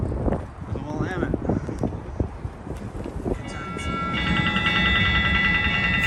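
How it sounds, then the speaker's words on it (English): A train crosses the steel bridge over the Willamette into Portland: a steady rolling rumble and rattle, with sustained high tonal squeals building in the second half and indistinct voices in the background. "a train ride to Portland, crossing the steel bridge"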